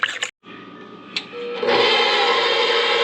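Melted butter, salt, milk and yeast being mixed in a bowl, likely with an electric mixer: a brief clatter and pause, then a steady loud whirring hum that builds and holds to the end.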